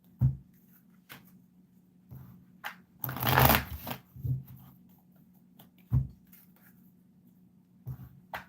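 A deck of tarot cards is shuffled by hand. Soft, scattered riffles and taps are heard close up, with one denser burst of shuffling in the middle and quiet pauses between.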